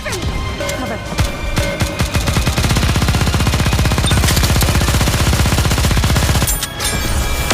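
Sustained rapid machine gun fire in the video game Goddess of Victory: Nikke, loud and continuous for several seconds with dense rattling bursts, briefly easing near the end before resuming.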